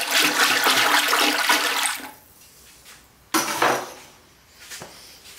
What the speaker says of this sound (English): give the glaze a good stir